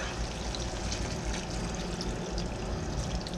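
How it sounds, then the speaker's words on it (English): About a cup of water poured into a hot skillet of spicy beef and cucumber, a steady loud splashing pour with sizzle that fills the whole stretch, no voices. "I think I'll add about a cup of water to it, because that's going to cook down."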